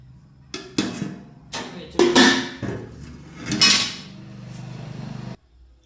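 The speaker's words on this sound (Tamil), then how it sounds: "சாப்பாடு போட்டாச்சு, குழம்பு ஊற்றிக்கலாங்க" Plates and cutlery clatter in a series of sharp clinks and scrapes while rice is served and dal sambar is poured, followed by a steady low pouring sound that stops abruptly.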